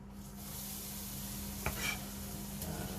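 Onions for a lamb shepherd's pie frying in a pan make a soft, steady sizzle under a low hum, broken by a couple of sharp utensil clicks against the pan.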